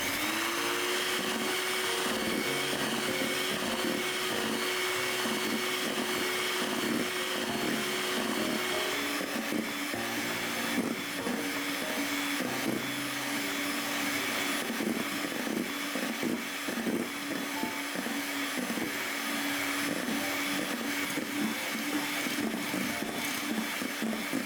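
Electric mixer whipping eggs at high speed for a traditional cake, a steady whirring motor drone with a slight pitch drop partway through, close and continuous with no voices.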